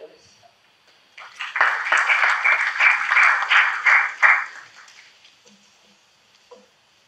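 An audience at a synthetic biology talk breaks into steady applause welcoming the speaker, rising quickly, sustaining for about three seconds and then fading to a few scattered claps.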